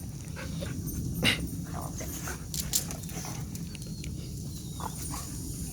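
Two adult dogs in a territorial standoff challenging each other, giving brief whines and sharp vocal bursts over a constant rough background noise at moderate distance.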